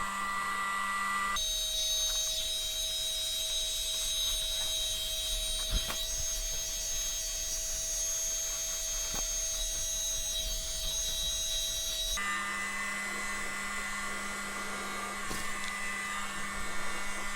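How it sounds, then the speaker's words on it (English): A mini blower whooshes over acrylic pour paint in a steady, loud continuous airflow, its pitch shifting partway through. "now I'm going to use the mini blower"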